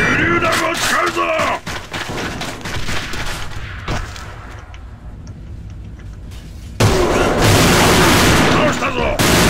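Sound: grenade explosion and gunfire in AVA video game

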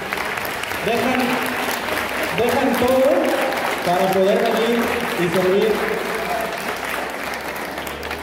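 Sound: audience applause

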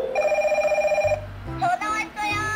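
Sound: toy telephone ringing

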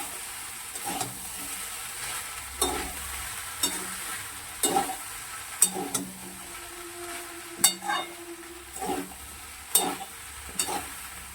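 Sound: stir-frying rice in a pan

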